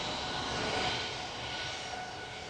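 The engine of an Embraer Legacy, a smaller jet airplane, roars with a steady, broad, loud rushing whine that holds without a break and fades slightly toward the end.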